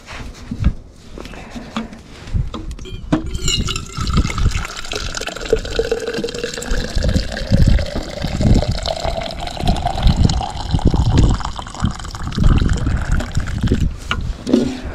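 Hot water pouring into containers, with a continuous gushing splash whose pitch climbs steadily as the vessel fills, close and fairly loud.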